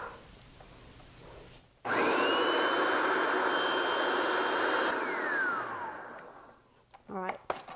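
A food processor whizzes a three-ingredient fresh strawberry mousse: a loud motor roar kicks in abruptly, holds steady with a high whine for about five seconds, then winds down as a voice begins speaking.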